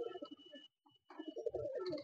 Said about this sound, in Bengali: চলুন এবার নেক্সট পায়রা দেখাচ্ছি।